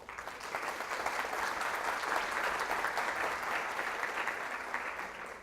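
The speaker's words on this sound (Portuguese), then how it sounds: "Eu quero pedir uma salva de palmas para eles." Auditorium audience applause, a steady wash of many hands clapping that swells in, holds evenly for several seconds and tapers slightly at the end.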